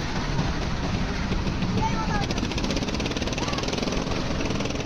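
Three motor boats approach on the water, their engines a steady, loud, continuous rumbling drone that stays level throughout, with a voice talking over it.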